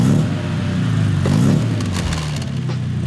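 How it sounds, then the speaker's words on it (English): An engine cranks and catches, settling into a steady, throaty idle close by. "Now that is how a car should start."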